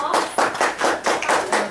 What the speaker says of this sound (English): So we'd like to give them a round of applause.